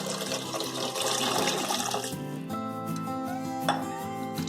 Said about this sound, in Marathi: पाणी जे आपण वेगळं काढलेलं ते मी घालते।